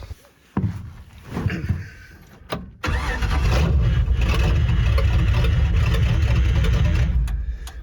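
A 1964 Ford Fairlane cranks briefly with a couple of short bursts, then catches and settles into a loud, steady idle that fills the rest of the clip up close.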